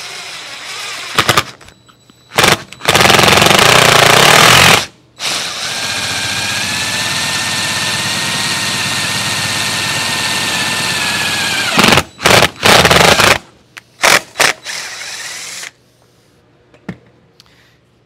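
A loud motor whines steadily for several seconds, with short bursts of grinding before and after, like a power drill with cutting fluid boring into sheet metal.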